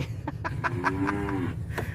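A cow moos in a long, drawn-out call on a farm, close and fairly loud, with a low droning tone that rises and falls before trailing off.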